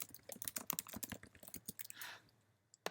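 Fingers type rapidly on a computer keyboard, a close, quiet burst of irregular key clicks that tails off into a soft brush of sound before a final tap.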